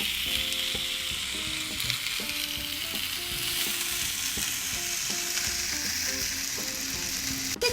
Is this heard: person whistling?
no